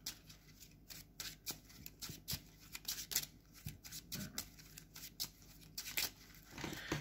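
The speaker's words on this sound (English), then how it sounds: "Shuffle your deck." Yu-Gi-Oh trading card deck being shuffled by hand, a quiet run of rapid riffling and flicking card sounds in short bursts, close and soft, with no talking.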